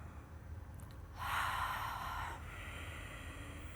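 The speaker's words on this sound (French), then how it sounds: "On va inspirer par le nez, expirer par la bouche" One slow, audible Ujjayi-style yoga inhale through the nose comes as a soft, close rushing breath lasting about a second, then tapers into a fainter airy sound over quiet background.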